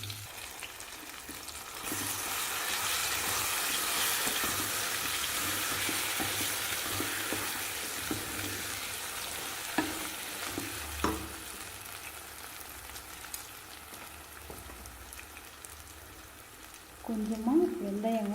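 A ground paste for ginger thokku fries and sizzles steadily in a pan while a spoon stirs it, with scraping knocks over the hiss. A voice speaks briefly near the end.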